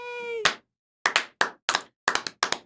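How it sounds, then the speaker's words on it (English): Slow hand clapping, about eight sharp claps in uneven pairs after a brief tone at the start, close and crisp with silence between them. "Slow clap."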